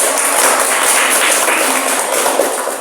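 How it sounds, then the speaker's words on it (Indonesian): A school class applauds a student after her answer, a dense, steady wash of many hands clapping at once for a few seconds, filling the room. "Ya, tepuk tangan untuk Resti."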